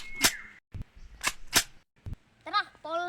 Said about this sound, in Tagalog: Tara, paulan natin ng bala si Sergeant Almasag para mamatay na yan.